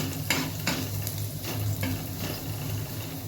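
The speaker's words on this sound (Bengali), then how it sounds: "এই রসুনটা অল্প একটু ফ্রাই করবেন।" Chopped garlic frying in oil for white sauce pasta: a close, steady sizzle with a few soft spoon scrapes and stirs through it.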